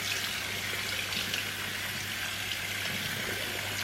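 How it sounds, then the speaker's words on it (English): Warm water running continuously from a tap over a Cosworth air filter for a Subaru Impreza STI, a steady close hiss and splatter with a faint low hum beneath and no talking. "so it's another rinse with the warm water"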